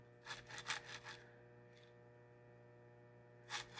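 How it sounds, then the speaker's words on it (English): The motor shaft of a Lionel 42 model train rubs against a wheel, giving a few short close grinding bursts over a steady electrical hum, then a pause before the grind returns. "Why is it making so much of a grinding sound? Oh, because the shaft is rubbing against the wheel."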